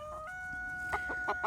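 Mixed-breed chickens cluck in a quick series of short calls, with a steady tonal hum in the background; fairly close and moderately loud.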